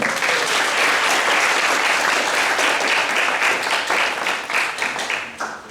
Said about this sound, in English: Give her a round of applause for our president, Mary Ellen Jakowski